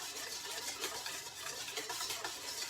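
An egg-based dressing whisked by hand in a bowl, a soft, continuous rapid swishing and ticking texture at low volume with no talk.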